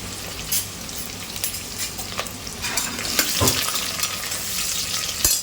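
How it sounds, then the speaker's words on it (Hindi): Three large chopped onions frying in oil with bay leaf, star anise, cloves and black pepper in a pot for mutton yakhni pulao, a dense continuous sizzle close by with spatula scrapes and knocks as they are stirred. "तीन बड़े प्याज डाल दी मैंने इसके अंदर"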